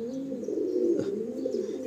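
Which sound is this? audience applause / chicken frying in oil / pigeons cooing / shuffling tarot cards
pigeons cooing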